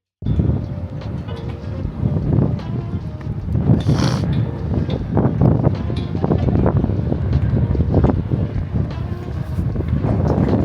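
Steady, heavy wind roars and buffets right against the microphone throughout, with no break in the rushing noise.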